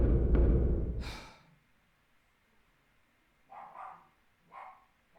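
A dog on a video game title screen gives two short, moderate barks a second apart, following a loud breathy huff and a quiet pause.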